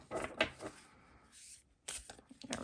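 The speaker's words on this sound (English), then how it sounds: "Let me shuffle one more time." Tarot cards being shuffled at close range, a few quick papery riffling bursts separated by short pauses, fairly quiet with no voices.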